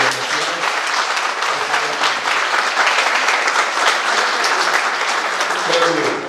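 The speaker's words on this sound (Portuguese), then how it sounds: "Quero pedir até uma salva de palmas aqui para você." An audience at a public hearing on child sexual abuse and exploration gives sustained, dense applause that fills the room for several seconds at an even level.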